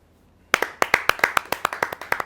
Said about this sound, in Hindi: एक बार उनके लिए स्वागत कीजिए, तालियां बजाइए राजेश चेतन जी